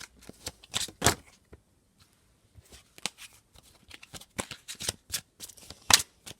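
Tarot cards shuffled by hand ahead of a reading, a run of quick papery riffles and flicks in bursts with short pauses between, close and fairly quiet, no talking.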